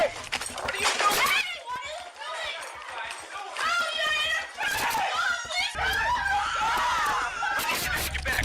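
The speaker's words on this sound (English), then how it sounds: "A woman can be heard yelling that they are in a church, a place meant to be a sanctuary of peace." During an arrest inside a church, a woman yells loudly and continuously, her shouting mixed with other raised voices, scuffling and commotion.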